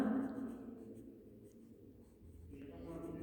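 A pen or marker scratches and rubs across a classroom board as words are written, a soft, uneven scraping heard closely, with a voice speaking in the room.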